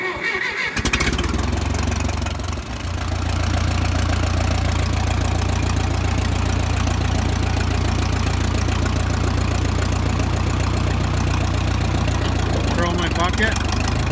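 A Minneapolis Moline Jetstar 3 tractor engine catches after a brief start and settles into a steady, loud, close idle with a low rumbling knock that runs throughout.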